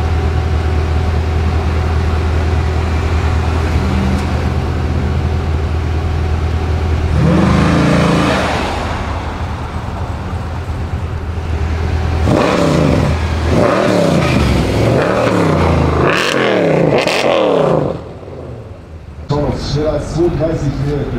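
A 500-horsepower Jeep Grand Cherokee SRT8 drives at high speed, its engine a steady loud drone that swells into a busier, harder pull toward the end, with voices talking over it.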